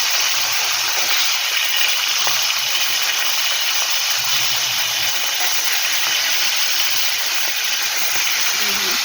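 Hilsa fish head, rubbed with salt and turmeric, frying in oil for badhakpoi, a steady close hiss and sizzle that holds at the same level throughout, with no speech.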